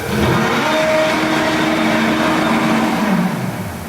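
An electric-motor full-size RC car is revved hard through its throttle, producing a loud, continuous whining rev that climbs and holds before easing off near the end, heard alone without speech.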